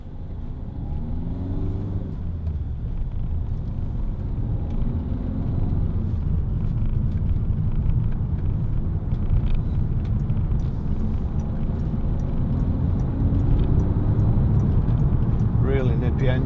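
A Peugeot 3008 1.6 HDi SUV diesel engine hums and rumbles steadily while driving, a low continuous drone with mild rises in pitch as it pulls, under someone talking inside the cabin.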